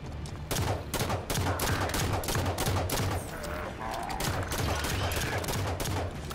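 Dense, continuous gunfire from DMR rifles in the Halo 5 video game, rapid overlapping shots sustained loudly throughout with little pause.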